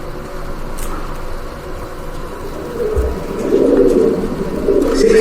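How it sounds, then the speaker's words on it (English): Pigeons in an old behavioral psychology experiment coo in a low, soft murmur that swells toward the end, over a steady background hum. "the American psychologist B.F. Skinner investigated the behavior of pigeons"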